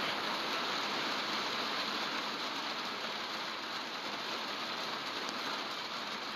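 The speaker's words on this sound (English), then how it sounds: "It's raining here." Steady rain falls outside, a dense, even hiss of drops on surfaces that holds constant throughout with no voices.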